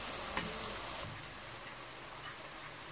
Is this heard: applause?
no